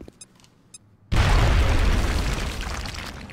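Frag grenade explosion in XCOM: Enemy Unknown, where a few quiet clicks give way to a sudden loud boom and then a long, rumbling decay that slowly fades.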